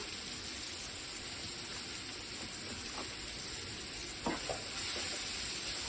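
Cumin and coriander powder masala with chilli frying in a pan on lowered heat, a steady broad sizzle with a few scraping stirs, close and moderately loud, no voices.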